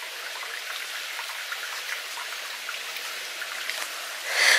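A small stream at the source of the River Axe, on damp ground on a hike between Churchill and Cheddar. Water trickles and patters softly and continuously nearby, with a slightly louder splash at the very end.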